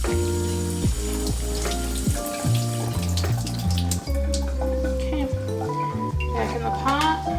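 Running tap water bathes a plant pot filled with LECA clay pebbles: a steady wash of water beneath tonal background music.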